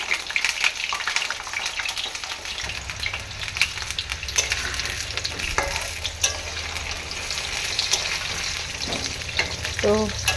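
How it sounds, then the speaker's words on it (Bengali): Potatoes fry in a pan with a steady, loud sizzle that continues throughout, joined by occasional stirring scrapes and a lower hum of cooking beneath from a few seconds in. "এখন আলুগুলোকে আগে লাল লাল করে ভেজে নিই"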